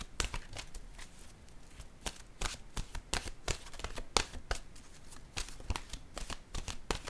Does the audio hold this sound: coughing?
no